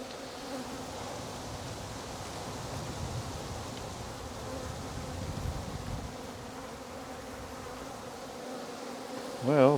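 Dense buzzing from a honeybee swarm hangs steady and close for nearly ten seconds, its drone swelling slightly near the end.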